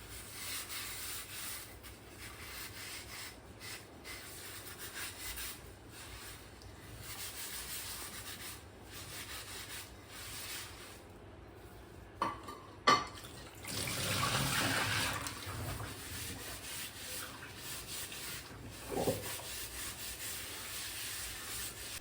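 Dishes get scrubbed and rinsed, with a soft rubbing scour going on at length and a burst of running water midway, quiet and close.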